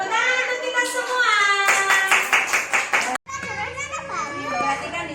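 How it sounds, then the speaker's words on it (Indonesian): Young children in a classroom clapping their hands in rhythm while chanting and singing together, lively and close, with a short break before they continue talking and playing. "Tepuk tangan untuk kita semua."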